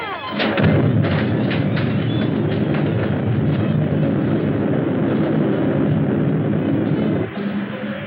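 Artillery gun fires in a war film scene, a loud sustained roar and rumble with a few sharp cracks near the start, dense and continuous to the end.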